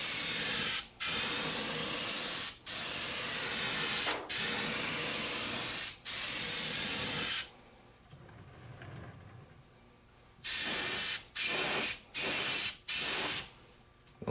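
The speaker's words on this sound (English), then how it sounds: "I'll spray on the inside of the car like this." Aerosol spray paint weathering an O scale model freight car, several loud sustained hissing bursts separated by short pauses, then a quiet gap before a run of quicker, shorter spurts close by.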